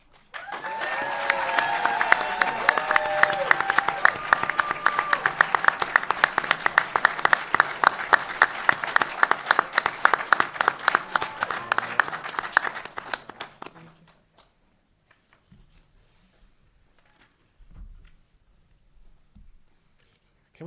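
Applause from the audience at a university law school moot court competition final, loud and steady with dense hand claps for about thirteen seconds, then dying away to near silence with a few scattered faint claps.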